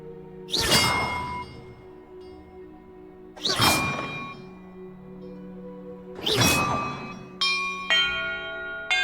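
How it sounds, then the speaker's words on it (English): Bells rung in the video game Hogwarts Legacy: three loud, resonant bell strikes spaced a few seconds apart, each ringing out and decaying, followed by a brief bright chiming melody at the end. "clues about the order I'm supposed to ring the bells in."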